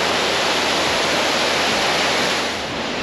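Mackenzie Falls in the Grampians, Victoria, Australia, a powerful waterfall roaring in a dense, steady, full-spectrum wash of falling water, loud and close with no break.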